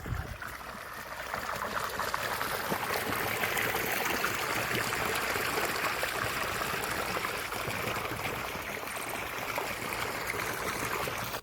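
Irrigation water flowing steadily into a wheat field, a continuous rushing gurgle at even loudness with no voices.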